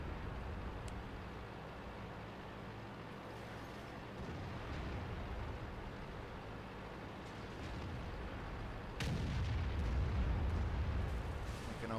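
A T110E4 tank fires in World of Tanks amid rumbling engine and battle noise, one loud heavy cannon blast near the end after a steady low drone.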